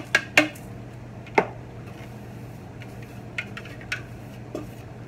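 Crumbly vanilla shortbread tart dough dumped into a tart pan, heard as a few sharp light clinks and taps of the pan and bowl against a quiet room hum, then softer scattered ticks.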